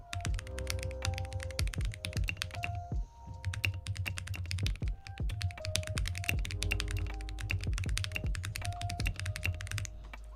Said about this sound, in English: It's direct PCB board, so it's a little bit different, but you can still hear the switches.